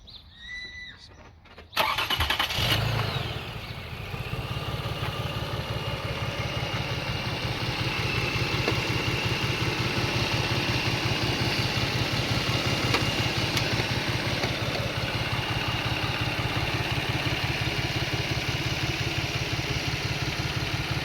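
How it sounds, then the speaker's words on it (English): A Toyota Sienna engine cranks and fires up after a short quiet moment, just after a timing belt and water pump replacement, then settles into a steady, slightly rough, shaky idle that drones on close by. "But now let's start the engine."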